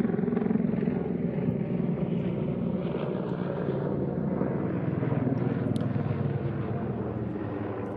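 A military helicopter of the Czech 221st Helicopter Squadron at the NATO Days 2022 air show throbs steadily and loudly throughout, a dense low rotor rumble with a slight pulsing beat and no speech.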